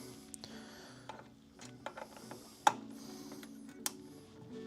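Screws being removed from a Skywalker coffee roaster, faint ratcheting clicks and small metallic ticks at close range, with a few sharper taps scattered through a quiet background.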